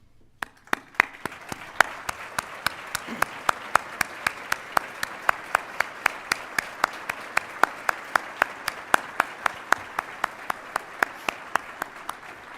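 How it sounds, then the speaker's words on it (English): Veterans and retirees at a State of the Region event draw a steady round of audience applause, with sharp individual claps standing out over a dense, even wash of clapping that holds for the whole stretch. "please stand and be recognized for a round of applause"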